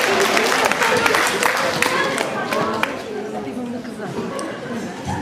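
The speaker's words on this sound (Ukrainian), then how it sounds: "Вітаємо бурхливими оплесками" Audience applause at a 2008 student diploma ceremony, with dense clapping and crowd chatter that is loud at first and thins out after about three seconds.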